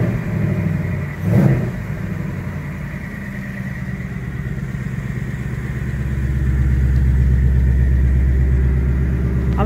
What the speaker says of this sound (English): Go ahead and rev the motor.